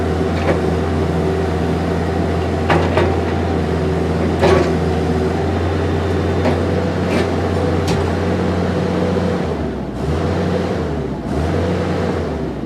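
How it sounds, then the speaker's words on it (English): A 2007 Bobcat 335G compact excavator's turntable swing motor drones steadily under the diesel engine's low idle hum, with a few faint clunks and a brief dip in the engine note near the end. "Swing boom has good power, or the actual turntable motor, I should say."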